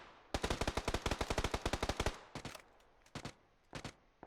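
Rapid automatic gunfire from a PUBG match: a loud, steady burst of about twenty evenly spaced shots, then a pause and a few shorter bursts of two or three rounds, with no talk over it.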